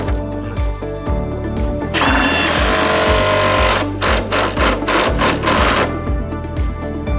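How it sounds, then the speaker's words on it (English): Impact drill hammering on a treadmill transport wheel retaining ring bushing, a loud, continuous rattling burst that runs for several seconds and then breaks into short repeated hits near the mic. "we strongly recommend not using an impact drill for this procedure"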